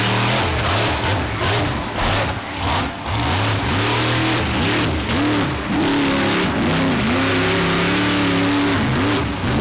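Jimmy Creedon's Extreme Bounty Hunter monster truck at Mansfield Motor Speedway during a freestyle run, its big engine loud and close, revving hard in repeated surging bursts that rise and fall throughout.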